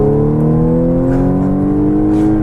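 Supercharged 2014 Audi S4 engine accelerating, a loud, steady rising drone with climbing harmonics as revs build continuously, alone without talk.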